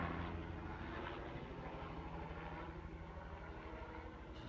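A steady, loud helicopter drone fills the air with continuous engine and rotor rumble, holding level from start to finish.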